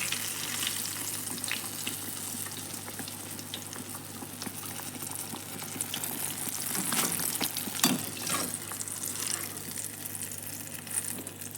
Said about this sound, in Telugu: వంకాయలు ఈ విధంగా ఫ్రై అయితే చాలండి